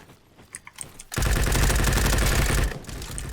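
Gunfire in the Roblox shooter Bad Business, starting with a few scattered clicks, then a loud sustained burst of rapid automatic fire lasting over a second before tapering off.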